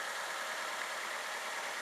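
A blue 2007 Toyota Avanza fitted with an HHO kit idles steadily, a smooth, even engine hum with a faint hiss, close and unbroken for a couple of seconds.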